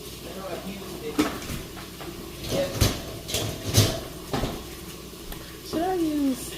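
Stirring a condensed milk bread mixture of milk and sugar in a bowl, with scattered spoon scrapes and clinks against the dish, close and moderately loud, while a person talks over it.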